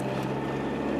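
A car engine drones steadily and fairly loudly from inside the cabin, a continuous broad roar with no speech.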